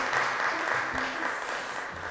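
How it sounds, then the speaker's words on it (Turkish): A quiz show studio audience gives a moderate, steady round of applause after a team scores points. It sounds somewhat distant, with faint voices underneath. "Alkışlıyoruz"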